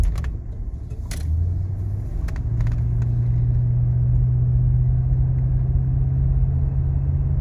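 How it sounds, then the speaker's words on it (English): A 1989 Lincoln Town Car rolls over a rough washboard road, its cabin filled with a steady low rumble and engine drone, with a few brief rattles and clicks near the start. "This is a pretty bad washboardy road. We'll see we'll see how the suspension soaks up all these bumps here."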